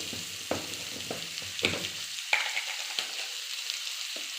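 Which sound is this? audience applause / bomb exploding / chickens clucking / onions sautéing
onions sautéing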